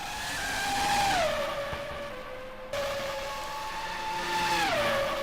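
Formula 1 car engine in a racing video game, flat out through the fast 130R corner at Suzuka during the Japanese Grand Prix: a loud, sustained high-revving whine with a downshift drop near the end, no talk.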